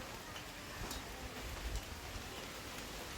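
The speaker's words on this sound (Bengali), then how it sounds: "মানে গুড়ি গুড়ি বৃষ্টি হইতেছে" Light drizzle falls outdoors on a windy day near covered rice and waterlogged fields, giving a soft, steady hiss with faint scattered taps throughout.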